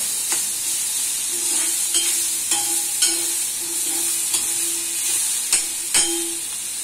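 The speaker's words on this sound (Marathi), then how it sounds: "आता आपला मसाला असं छान भाजून जाते." Spiced masala with tomato and garlic cloves roasting in a pan for pav bhaji, a steady sizzle and hiss with repeated scraping strokes of a spoon stirring at an irregular rhythm, close and alone with no talk.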